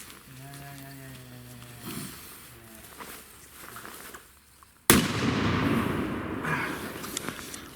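Voices speak briefly at first, then one loud, abrupt Zena Red Salute firecracker blast cracks and rolls into a lingering echo that fades slowly.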